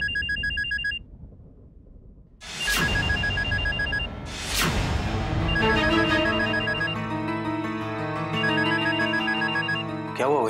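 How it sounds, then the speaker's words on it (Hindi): A telephone rings with a repeating electronic ringtone melody. Sharp bright tones ring out clearly up close over a quiet background. "आप फोन आंसर क्यों नहीं कर रही?"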